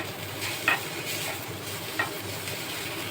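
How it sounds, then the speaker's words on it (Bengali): Chapa shutki, dried fish, fries in a small amount of oil with a steady close sizzle, broken by a few sharp scraping stirs of a spatula against the pan. "খুব সুন্দরভাবে এক জায়গায় করে ভেজে নেব।"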